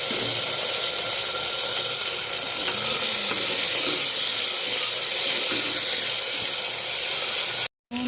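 Tomatoes go into a hot pan with cumin and garam masala, setting off a steady close sizzle with a few faint stirring clinks before a brief cutout near the end.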